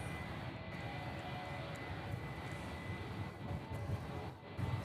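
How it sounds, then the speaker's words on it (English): Distant fighter jets, F-22As of the 199th Fighter Squadron, fly over Hickam Air Base in Hawaii during a Sentry Aloha exercise, giving a steady broadband roar that holds at a constant level throughout with wind-like rumble. "F-22As from the 199th Fighter Squadron here at Hickam Air Base"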